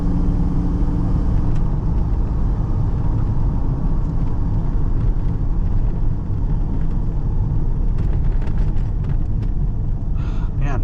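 A Pontiac Grand Prix with a faulty transmission stuck in one low gear drives with a loud, constant interior engine and road rumble that never shifts, while people talk briefly over it.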